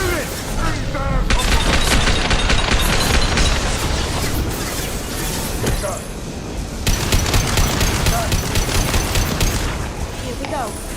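Sustained gunfire in the Mass Effect 2 video game as shots pour into a loosening fuel tank: dense rapid bursts with booming impacts, a short lull near the middle, then another heavy volley, loud and close.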